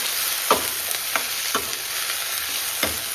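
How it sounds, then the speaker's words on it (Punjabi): Onions browning in a hot frying pan, a constant close sizzle broken by a few quick scraping stirs at an irregular pace, with no talking. "ਪਿਆਜ਼ ਚੰਗੀ ਤਰ੍ਹਾਂ ਨਾਲ ਬਰਾਉਨ ਕਰਾਂਗੇ"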